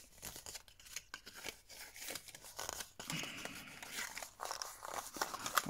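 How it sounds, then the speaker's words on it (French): Paper folds being creased by hand while making a craft advent calendar box, quiet close crinkling, rubbing and pressing sounds in short irregular bursts. "On va marquer tous nos plis."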